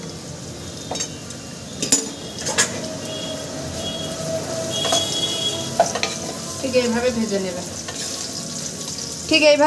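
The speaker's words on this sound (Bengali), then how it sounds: "সুন্দর করে কিন্তু একটু ভেজে নেবে, তাহলে কিন্তু ডুমুরের কচ ভাবটা চলে যাবে" Figs frying in oil in a kadai, with a soft continuous sizzle, clinks of a spatula stirring against the pan, and a brief spoken phrase over the cooking.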